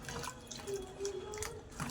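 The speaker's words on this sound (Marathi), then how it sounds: "सगळ्यात पहिले 2 पाण्याने स्वच्छ भेंडी अशी धुवून घ्यायची." Water splashes and trickles as okra is rinsed, with soft drips and sloshing close by, no talking.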